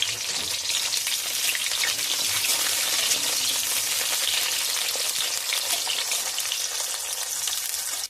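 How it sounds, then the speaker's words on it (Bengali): Eggplant pieces fry in hot oil left from frying bitter gourd, a continuous loud hiss and crackle that holds steady throughout and cuts off abruptly at the end. "ওই তেলে বেগুনগুলো ভেজে নেব।"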